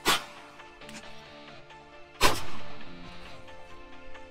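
A Street Sweeper shotgun fires into body armor backed by particle board, two loud sharp blasts about two seconds apart with ringing echo tails, and no talking.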